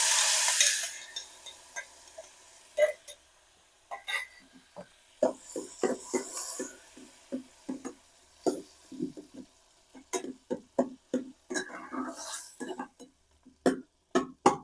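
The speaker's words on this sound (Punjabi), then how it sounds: "ਆਪਣੀ ਮਿਰਚਾਂ ਤੇ ਜਿਹੜਾ ਤੇਲ ਉਹ ਸੌਟੇ ਹੋ ਗਿਆ ਹੁਣ ਆਪਾਂ ਇਹਦੇ ਵਿੱਚ ਪਾਵਾਂਗੇ ਟਮਾਟਰ" Dried red chillies and tomatoes go into hot oil in a home kitchen pan, giving a sharp burst of sizzle followed by repeated clinks and scrapes of stirring at close range.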